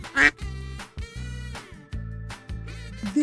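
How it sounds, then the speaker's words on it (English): A duck quacks several times in short, separate bursts over a rhythmic, thumping backing beat, with no speech. "A duck says quack"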